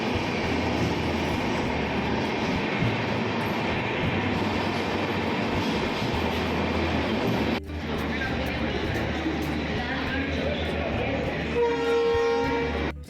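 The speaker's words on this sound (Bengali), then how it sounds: "এটা আমাদের মারিয়ানি স্টেশন। একটু পরে ট্রেন চলে আসলো।" A train pulls into Mariani railway station with a continuous loud rumble of wheels and carriages and a steady wash of noise, then a brief horn-like tone near the end.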